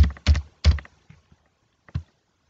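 Typing on a computer keyboard while entering a word into an Excel spreadsheet, a quick burst of a few close keystrokes followed by a short pause and one last tap.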